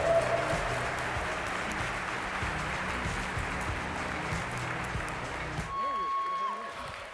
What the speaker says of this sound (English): Can you please give a huge round of applause to Edward Snowden?